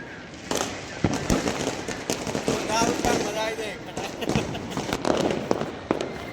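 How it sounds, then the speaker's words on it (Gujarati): Firecrackers pop and crackle repeatedly at irregular intervals during Uttarayan kite festival celebrations, some sharp bangs standing out, with people talking faintly under the bursts. "પાછળ જો ફટાકડા ફૂટે છે"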